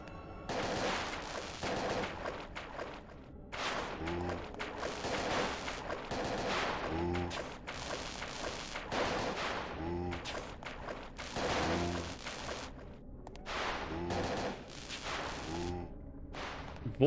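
Repeated bursts of gunfire from the survival horror video game Parasite Eve 2, shots landing in clusters at fairly regular intervals over a steady background of game sound effects and music.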